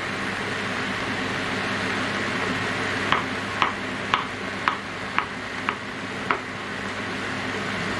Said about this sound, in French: je touille, comme ça les oignons ils vont pouvoir cuire